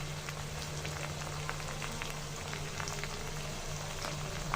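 Ginger, garlic and cumin spice paste frying in a pan for chicken liver bhuna, a steady soft sizzle and crackle with scattered pops, close and fairly quiet with no talking.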